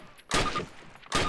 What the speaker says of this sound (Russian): Подойди к ограждению и сделай 6 выстрелов по мишени.